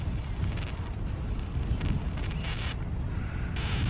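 Steady wind buffets the microphone on an inclined shingle spit on Hayling Island, a constant low roar with gusty swells and no voices.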